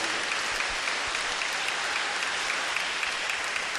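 Church congregation applauding to acclaim Jesus: dense, sustained clapping from a large crowd, steady and loud throughout.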